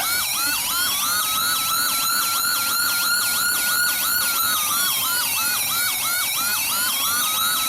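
A loud AS920 dual-tone electronic siren alternating between two sweeping tones in a steady repeating wail, close and continuous with no voices.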